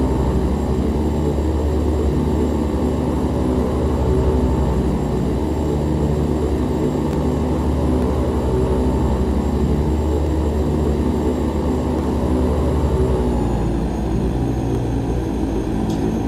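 OV-10 Bronco twin-turboprop aircraft in a VR flight simulator, a constant loud propeller and engine drone with a steady whine above it that shifts slightly near the end.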